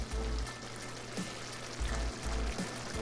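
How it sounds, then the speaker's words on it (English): Fish stock with small vegetables simmering in a pan, a close and continuous bubbling sizzle with a fairly even crackle and no talking over it. "And we just gonna let that simmer."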